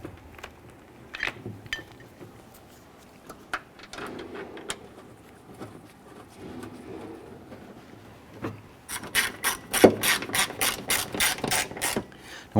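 A hand tool ratchets steadily as three screws on a Toyota Camry rear door lock actuator and integrated latch are driven in, with scattered handling clicks first and then a loud, rapid clicking run near the end.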